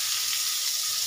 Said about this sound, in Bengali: তেলের মধ্যে মিক্সটা দিয়ে দিচ্ছি, পেঁয়াজগুলো,